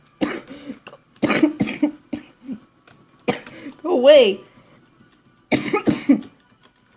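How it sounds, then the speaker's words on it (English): A person coughs a few times in short, harsh bursts close to the microphone, mixed in with their own speech over quiet background. "Cough."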